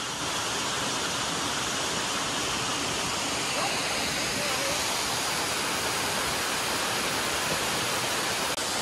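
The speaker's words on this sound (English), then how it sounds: "Come on and see the waterfall." Continuous broadband rushing water roars steadily throughout, like a nearby waterfall in North Georgia, loud and unbroken.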